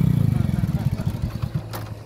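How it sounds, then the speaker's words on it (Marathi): A motorcycle arrives at a lake desilting site where tractors and tipper trucks are working. Its engine gives a close, throbbing low rumble that pulses steadily, then eases off toward the end. "पाहू शकता मोटरसायकल आलेली आहे आता सध्या."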